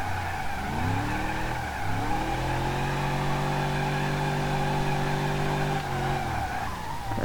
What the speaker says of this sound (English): Oh wow, okay, you can actually drift this.